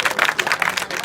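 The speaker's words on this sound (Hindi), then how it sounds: "तुम हो, ताली बजाओ इनके लिए।" Students in a school classroom clap for a classmate during an adolescent education session, a brief burst of dense, uneven hand claps from a group, fairly close and loud.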